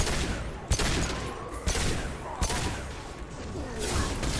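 Gunfire in the video game Mass Effect 2, with sniper rifle shots: several sharp, loud cracks spaced about a second apart over a continuous roar of battle.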